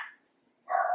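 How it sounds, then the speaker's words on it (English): Pet dogs bark indoors in two short bursts, one right at the start and another near the end, separated by a brief quiet gap. "sorry about my dogs"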